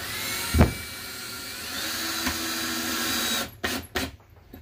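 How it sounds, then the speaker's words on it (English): Cordless drill driving a screw into wood for a small wooden cup or marker holder, a steady whining motor hum that runs for several seconds, then a few short trigger bursts as it seats flush, close and moderately loud. "you want a little bit less power when you're drilling in your screw"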